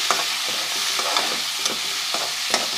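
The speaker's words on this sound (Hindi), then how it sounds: "और अब हम इसमें शामिल करते हैं लहसुन अदरक का पेस्ट 2 खाने के चम्मच।" Ginger garlic paste stirred into onions frying in oil gives a steady close sizzle, with a spoon scraping the pan in regular strokes about twice a second.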